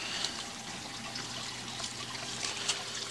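Water trickles and splashes steadily through a DIY aquaponics radial flow filter after the pump is reattached, a continuous close bubbling flow with no talk.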